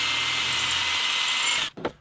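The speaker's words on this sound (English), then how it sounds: "now I can punch and drill" A power drill bores holes in a steel Viking helmet shell, a steady high whine running nearby, then stopping abruptly near the end with a short clatter.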